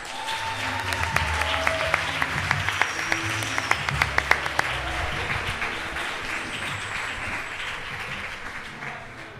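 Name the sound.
audience applause at a poetry slam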